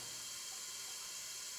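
Water sprays onto a wet wash sieve as a soil sample is agitated, producing a constant hissing wash of water with no pauses or voices.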